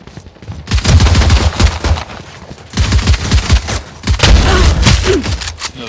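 Rapid, loud gunfire fills a tactical shooter match at the last-player-standing moment with the spike planted, sounding as dense repeated bursts with punchy impacts in three heavy waves.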